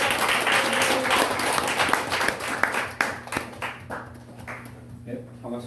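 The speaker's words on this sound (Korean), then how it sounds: "큰 박수로 맞이해 보겠습니다" An audience applauds to welcome an internal medicine doctor giving a lecture. The clapping is strong at first, then thins out into scattered claps and fades as the room quiets and a voice is heard.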